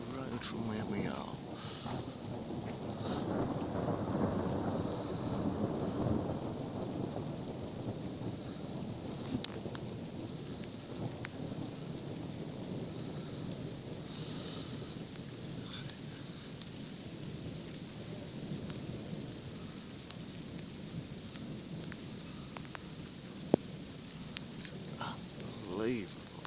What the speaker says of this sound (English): now raining. I believe the centre of the storm is just up the road from where we are.